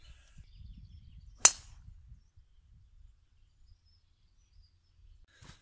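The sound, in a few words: golf club hitting a provisional golf ball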